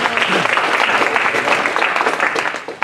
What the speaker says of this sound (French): On peut applaudir le Seigneur Jésus.